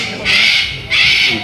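Two shrill, drawn-out bird calls sound in succession, fairly close, over a low background murmur.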